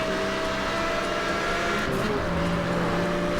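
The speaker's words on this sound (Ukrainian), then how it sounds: "прискорюсь. Я вже на максимальній швидкості їду." Car in the Need for Speed: Hot Pursuit racing game at top speed, a loud, continuous engine roar holding one steady pitch for a few seconds, with no talk over it.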